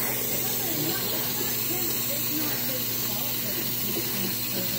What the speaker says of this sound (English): Alright, so we're going to let that pressure release